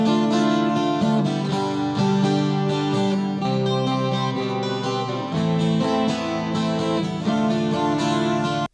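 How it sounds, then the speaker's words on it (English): Soloed acoustic guitar tracks with no processing, captured raw off the microphone, strum chords continuously with bright ringing strings, full and close throughout with no voices. "so this is with no processing going on from the guitars"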